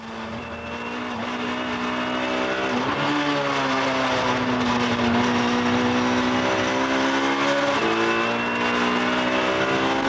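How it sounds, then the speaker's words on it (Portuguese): Touring race cars, including a Chevrolet, roar past on a World Touring Car Championship circuit, loud sustained engine howl with shifting pitch as cars race wheel to wheel and overtake, no talking. "Jörg Müller coloca o seu carro por fora, vai no limite e vai conseguir passar para a frente de Robert Huff"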